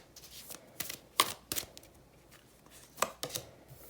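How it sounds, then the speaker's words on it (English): Tarot cards being shuffled by hand: a quiet series of soft riffling and slapping bursts at an uneven pace, close and without speech. "I'm going to give these a quick shuffle."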